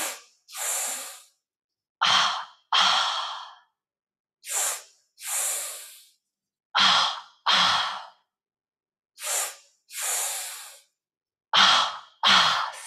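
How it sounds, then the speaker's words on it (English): A slow, light yoga breathing exercise into the belly and chest: paired soft in and out breaths repeat at a steady, unhurried pace, each airy puff separated by silence, close and alone. "So you're gonna do 10 breaths into your belly and then 10 breaths up into your chest, but make the breath in light."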